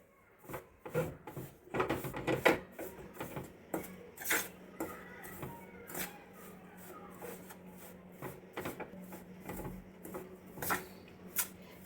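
Wheat flour halwa being stirred with ghee in a steel pan, a ladle scraping and clinking on the metal in irregular strokes, some sharp and some softer, with a faint hum underneath.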